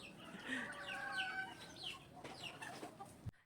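Chickens and cockerels at a game farm cluck and squawk in quick, overlapping bursts, close and fairly clear, ending in a brief thump.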